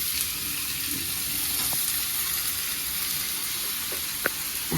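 Soya chunks fry in oil with a steady, moderate sizzle as they are turned, with a few soft knocks and taps from a spoon and no speech.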